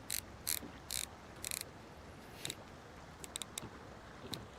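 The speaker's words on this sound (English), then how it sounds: "We've tightened up our drag." A fishing reel's drag being tightened on a bass fishing outing, giving faint, quick clicking bursts in short irregular groups against quiet outdoor background.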